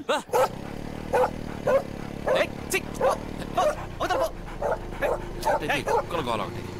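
Dogs barking at night in a comedy scene, a run of repeated yips and bow-wows, fairly close and loud, over a sustained music bed with voices talking around them.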